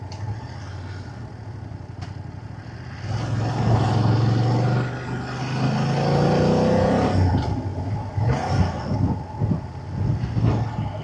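A car passes on a country road in the Cotswolds, swelling from a faint hum into a loud, close rush over a few seconds, then fading away, with no talking.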